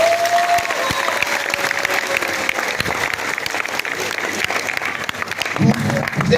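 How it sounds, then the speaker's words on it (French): Loud, sustained audience applause fills the room at a women's rights day event, a dense crowd clapping steadily with a murmur of voices underneath. "Ça mérite un tonnerre d'applaudissements"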